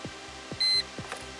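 A Mercedes M-Class dashboard gives one short, clear electronic beep during a service light reset, set among soft, regular ticking clicks.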